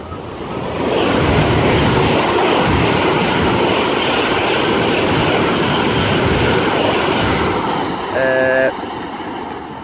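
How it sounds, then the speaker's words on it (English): A Eurostar E320 high-speed train bound for Paris roars past on the HS1 line near Rainham, a loud sustained rush building in and holding steady, then a brief horn-like tone sounds near the end before it cuts off. "ready to pass through now is going to be a E320 bound for Paris Gare"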